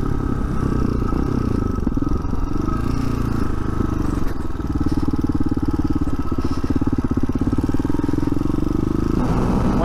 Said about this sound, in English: One thing I'll mention about riding this bike on the road, it's a 5-speed, and in fifth gear I'm going about 48-ish right now.